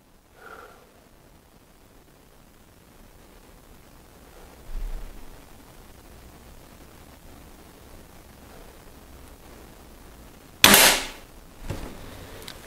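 A single sharp report from a Weihrauch HW 30 S air rifle, loud and alone against a quiet background, followed by a fainter second burst about a second later.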